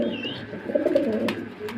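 Blue bar beauty homer pigeons coo softly nearby in a brief low burbling call, with a faint chirp and a couple of light knocks in the background.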